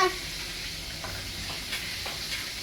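Steady sizzling of food frying in a pan, a continuous hiss with occasional soft pops and stirring scrapes, close by.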